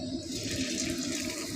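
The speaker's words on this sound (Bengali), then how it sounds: "তেলটা ঢেলে দেবো, তেল দিয়ে দিলাম।" Cooking oil poured into a pan for a roadside breakfast of luchi and potato curry, a steady, even liquid rush heard close and alone.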